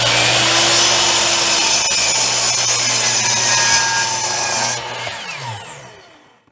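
A power saw cuts through a wooden door wedge, a loud, close, steady whining rasp for nearly five seconds before the blade winds down and fades out.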